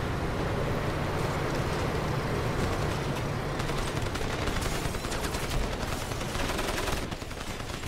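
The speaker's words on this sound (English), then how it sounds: "Machine gun nest, is it?" Rapid machine gun fire in the video game Crysis, dense continuous bursts of shots filling the scene at loud, steady level with layered battle noise and no pauses.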